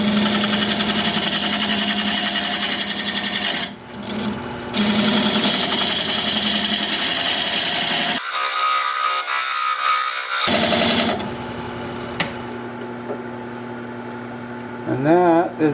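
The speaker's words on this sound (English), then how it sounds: "Now I'm going to use this diamond point tool to square up the sides of the tenon." Wood lathe spins a candle holder workpiece while a diamond point tool squares the sides of a tenon, giving a loud steady whir with tonal hum, interrupted by a couple of pauses and scraping cuts.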